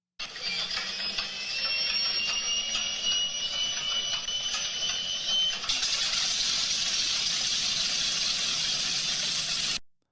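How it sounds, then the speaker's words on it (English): A B-25 Mitchell bomber's heavy piston engine drones steadily and loudly, its pitch shifting slightly partway through, with no talking. "The sound you just heard was of a B-25 Mitchell bomber."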